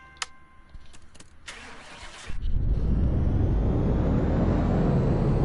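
In the Car Mechanic Simulator video game, a car on a dyno starts up after a few clicks and clunks, then its engine roars into a loud, steady, continuous rev.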